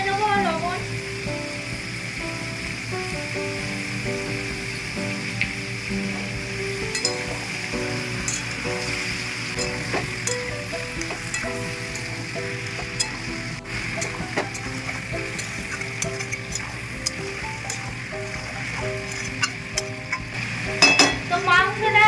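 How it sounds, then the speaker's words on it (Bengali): Chicken pieces fry and sizzle steadily in a pan for a Bengali chicken jhol, a constant crackling hiss with occasional stirring and utensil clinks, close and even throughout. "তো মাংসটা হালকা হালকা ভাজা হয়েছে, খুব ভাজবো না।"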